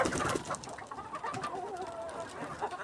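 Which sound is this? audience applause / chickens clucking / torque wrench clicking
chickens clucking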